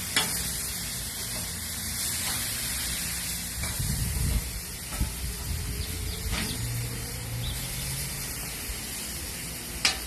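Scallops sizzle steadily on a hot barbecue grill for about ten seconds, a close, continuous frying hiss with occasional soft scrapes and clicks, no voices.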